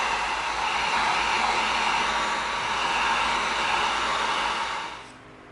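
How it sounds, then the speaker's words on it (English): A heat gun blows steadily while heat-sealing cut EVA foam pieces, a loud even rushing hiss that runs without a break and then cuts off near the end. "Now we're going to heat seal before we glue."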